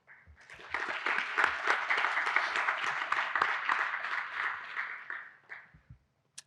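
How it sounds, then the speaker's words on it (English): A graduation audience at a virtual academy ceremony gives a round of applause that swells quickly, holds as dense clapping for several seconds, then tapers off to a few last claps. "giving a round of applause for all the people that have supported you to this moment"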